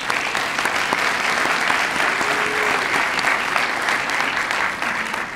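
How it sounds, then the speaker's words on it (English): Steady, dense audience applause at a community assessment event honoring steering committee members, many hands clapping evenly and fairly loud for several seconds with no speech over it. "Let's give them a round of applause as well."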